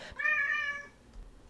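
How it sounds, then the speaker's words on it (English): A single drawn-out, upset-sounding meow from a pet cat, close and fairly loud, lasting most of a second before fading into quiet room tone. "That was my cat, Charlie"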